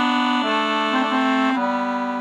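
An Excelsior 120 bass accordion plays a sustained note on its single bassoon reed, with a rich, buzzy tone. The note shifts pitch a few times over about two seconds, close and steady, with no talking.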